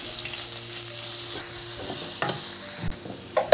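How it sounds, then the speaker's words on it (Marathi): Cumin seeds and finely chopped onion fry in hot oil in a kadhai, giving a steady, close sizzle with occasional scraping stir sounds and small clinks toward the end, with no voices. "तेल गरम झाले की 1 चमचा जिरे, 1 बारीक कांदा चिरलेला,"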